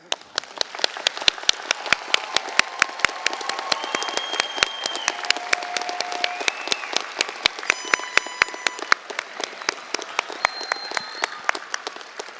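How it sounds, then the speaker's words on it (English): Graduates at a winter college convocation ceremony receive sustained applause, a dense steady clapping from a large audience lasting throughout, with faint tones in the background. "I think we need to give you one more round of applause."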